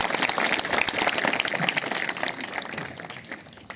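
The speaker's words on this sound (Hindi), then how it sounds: "रजनीश के लिए तो जोरदार ताली होनी चाहिए।" An audience at a general-knowledge quiz gives a burst of clapping for a participant, steady, dense applause from a crowd lasting a few seconds and slowly thinning, with no talk over it.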